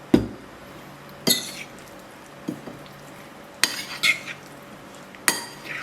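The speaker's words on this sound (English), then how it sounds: "stir this in with a bit more olive oil" A spoon stirring basil and olive oil into a bruschetta topping in a bowl, with several sharp clinks and scrapes spaced a second or so apart against quiet background.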